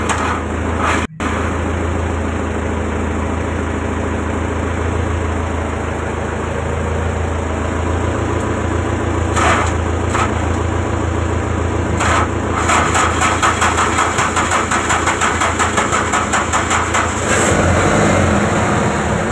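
A fishing boat's engine in Luwuk Banggai idles in a steady, continuous low rumble with a faint mechanical hum. One sharp click sounds early, and the running grows slightly busier and more rattly near the end. No one speaks.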